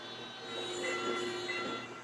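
A train rolls through a railway crossing on the Gyeongui line at night, a steady rumbling roar with faint squealing tones that swells slightly midway, heard at moderate distance with no talk.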